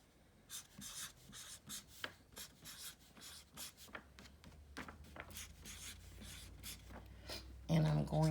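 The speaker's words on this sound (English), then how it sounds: "Let me write that." A pen scratches across paper in short strokes, with brief pauses between marks, close and fairly quiet, while a teacher talks at moments.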